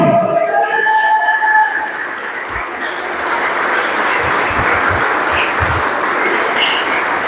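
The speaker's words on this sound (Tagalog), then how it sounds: "Palakpakan natin ang Panginoon" A church congregation applauds in a loud, sustained wash of clapping, preceded by a brief tonal swell of sound and continuing steadily to the end.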